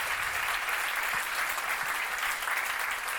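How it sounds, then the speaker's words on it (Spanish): An audience claps steadily at a community discussion event, a fairly faint but continuous wash of many hands applauding with no one speaking over it. "un aplauso, porfa"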